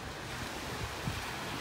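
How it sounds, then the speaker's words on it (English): Waves washing over a sandbar on a North Naples, Florida beach as the tide comes in, a steady, full surf wash with some wind rumble and no talking. "You can see the waves are already starting to cover up this sandbar."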